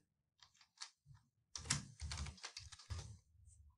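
A password typed on a computer keyboard while installing a Konica Minolta printer driver on a Mac: a few scattered light taps, then a quick run of close, crisp keystrokes, with no talking.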